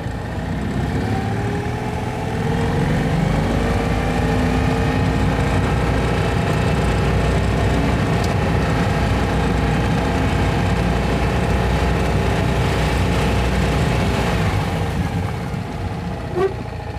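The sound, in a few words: Citroen 2CV engine idling high after overhaul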